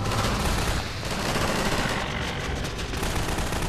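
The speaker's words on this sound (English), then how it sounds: "There's a lot of shooting going down in that room" Dense gunfire in the Half-Life 2 video game, with sustained rapid automatic bursts and shots in a room below. The volley is loud and continuous and is heard without talk.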